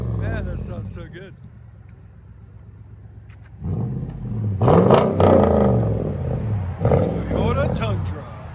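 Exhaust of a Toyota Tundra pickup fitted with either an X-pipe or true dual exhaust, idling with a low rumble before breaking into loud, deep revs in bursts, with someone talking over it.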